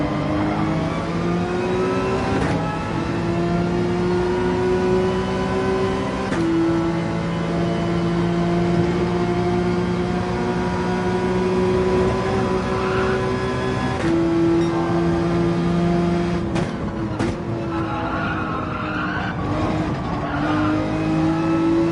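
Race car engine held at full throttle in a racing video game, a loud continuous harmonic whine that shifts pitch at a few gear changes and runs steadily throughout.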